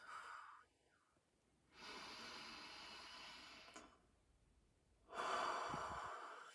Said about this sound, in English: So you'll just take some deep breaths and release